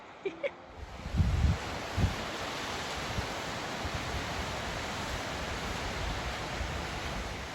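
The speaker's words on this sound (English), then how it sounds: "The sound of the creek is just so comforting." A creek flows steadily beside a trail through an aspen forest, a broad continuous rushing wash with a few soft thumps and rustles near the start, no talking.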